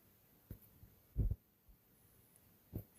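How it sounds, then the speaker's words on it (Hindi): A heartbeat effect in a heavy thriller background beat: slow, deep, muffled thumps, one of them doubled, spaced irregularly and fairly faint, with no voices. "बैकग्राउंड म्यूजिक, एक भारी थ्रिलर बीट जो धीरे धीरे दिल की धड़कन के साथ तालमेल बिठाती है"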